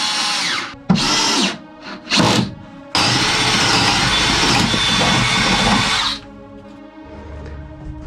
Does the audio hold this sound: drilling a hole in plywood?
yes